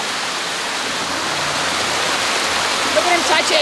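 A mountain stream on Achasan rushes and splashes in a loud, steady wash of flowing water close by, with voices briefly heard over it.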